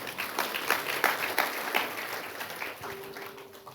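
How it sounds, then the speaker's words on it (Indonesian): Sustained applause from a church congregation, dense steady clapping that swells early then slowly fades, with a faint voice or tone entering near the end. "Yang setuju berikan tepuk tangan"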